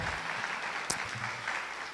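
Audience clapping at a Suitland High School community partnership launch event, dense steady applause filling the room for two seconds, with a brief sharp noise near the middle.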